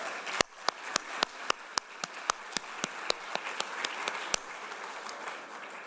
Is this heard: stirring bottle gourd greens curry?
no